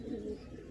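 A racing pigeon gives a single short, soft coo, close and brief.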